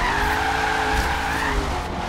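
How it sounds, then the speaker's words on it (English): Tires squeal and skid in a sustained, loud slide as a race car hits a 200 mph handbrake drift into an S-section in Forza Horizon 3, with engine roar underneath throughout. "We're gonna try and do a 200 mile an hour handbrake into this S section"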